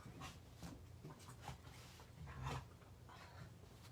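Several dogs playing together indoors, low growls and grumbly bark-like noises coming in short bursts over a steady low background, fairly quiet and close.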